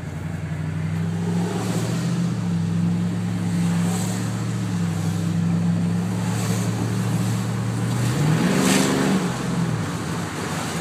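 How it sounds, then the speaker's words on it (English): A loud, raw car engine with a catalytic converter but no muffler or exhaust drones steadily at idle, then briefly revs higher before settling back to its rough idle. "It doesn't sound tuned because there's no muffler yet."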